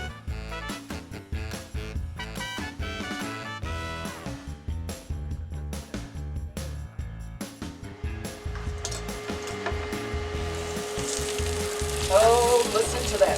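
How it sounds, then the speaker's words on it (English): Food sizzles and fries steadily in a pan, a dense continuous crackle with clattering stirring knocks, getting brighter and hissier toward the end. "Oh, listen to that sizzle."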